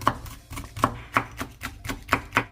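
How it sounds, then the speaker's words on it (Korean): Two Cheongyang chili peppers are finely chopped on a cutting board, a quick rhythmic series of close, sharp knife knocks at about four per second, with no talk. "청양고추 두 개를 잘게 썰어줍니다."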